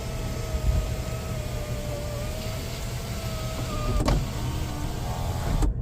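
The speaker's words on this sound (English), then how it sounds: "Sunroof works amazing." The power sunroof of a Chevrolet Traverse Premier Redline Edition runs inside the car with a steady, loud electric motor whine that holds for several seconds before stopping abruptly, with no talking.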